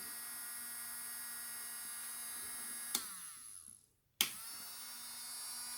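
An electric sander fitted with an unsuitable attachment runs with a thin, steady high whine. It drops out for about a second, then starts up again at the same pitch, fairly quiet, without speech.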